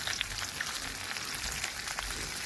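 Food frying outdoors at a campsite, cooked for a long stretch; a steady close sizzle and crackle runs without a break, with no voices over it.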